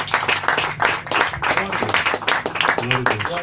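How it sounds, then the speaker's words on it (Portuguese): Church congregation clapping for the Lord during a worship service, steady close applause mixed with voices and some singing or calling out throughout. "Pode aplaudir o Senhor"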